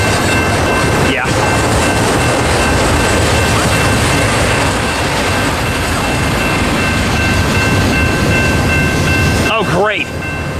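Train rolling past on the railroad at Cajon Pass, a steady loud rumble filling the whole stretch with a constant high whine, and a brief horn-like tone sweeping near the end; people talk faintly over it.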